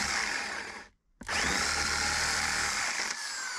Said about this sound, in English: Just make a little hole so we can countersink these screws too.